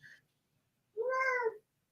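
A needy house cat meows once loudly and clearly after a short faint chirp, a drawn-out indoor call with no talking over it.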